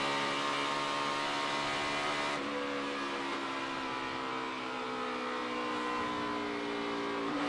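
NASCAR race cars roar past on the final lap, a sustained high engine whine with harmonic tones that shift in pitch as the cars sweep by, loud and continuous.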